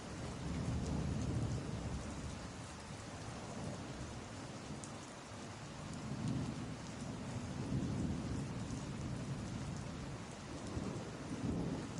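Steady heavy rain pours throughout with low thunder rumbling in the background, a continuous moderately loud storm with no voices.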